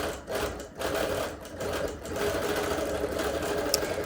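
A sewing machine quilting a show quilt with leaves and curved crosshatching runs in a steady, close whir for about four seconds, dipping only briefly near the start.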